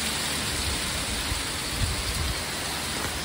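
Rain falls in a steady, dense hiss across the whole stretch, with no talk and no breaks, and a faint low rumble underneath.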